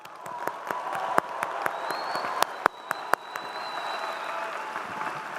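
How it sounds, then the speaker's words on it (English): Audience applause at a Grand Valley State University commencement, a dense crowd clapping steadily with sharp individual claps standing out nearby and a faint whistle over the top. "Let's just give them one more round of applause."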